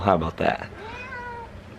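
A pet cat meows twice, short and close, followed by a longer rising-falling meow; a voice speaks briefly over the first calls.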